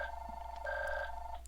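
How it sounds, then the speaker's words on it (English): A telephone rings nearby with a steady electronic two-tone trill, one sustained ring lasting over a second against a low background hum. "Sorry about the phone."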